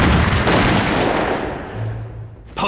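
Battle gunfire and artillery in a war drama: dense, loud rolling blasts and rapid fire that fade slightly, then a sharp new burst at the end, with no speech.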